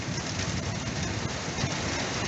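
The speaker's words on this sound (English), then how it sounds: "Here comes some more rain. Really bad rain." Heavy rain in a windy thunderstorm that is stripping leaves from trees, heard as a dense, loud, unbroken roar of downpour with no voices.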